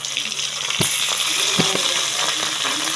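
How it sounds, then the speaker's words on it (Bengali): Fish dusted with salt and turmeric dropped one by one into hot oil in a wok, a bright continuous sizzle punctuated by a few sharp splashy bursts as pieces hit the oil, close and fairly loud. "তেলটা গরম হয়ে গিয়েছে, এবার মাছগুলো আমি কড়াইয়ে দিয়ে দিচ্ছি একে একে।"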